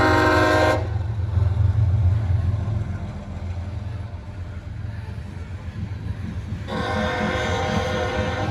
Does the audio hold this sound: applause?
no